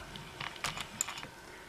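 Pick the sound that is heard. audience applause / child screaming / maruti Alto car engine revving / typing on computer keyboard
typing on computer keyboard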